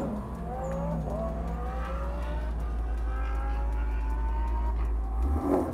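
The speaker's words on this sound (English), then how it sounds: "The Ford Mustang always sounds amazing. Wow, that is loud." Ford Mustang engine roaring at an airfield car event, a loud sustained drone with rising revs as the car passes close by, building toward the end, no talk.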